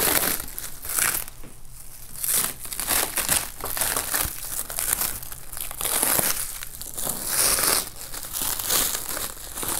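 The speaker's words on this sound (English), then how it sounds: "let's go ahead and get this unwrapped" Plastic packaging crinkles and tears while a Procolored A4 desktop DTF printer is unwrapped, a steady close rustling that swells and eases over several seconds with no talking.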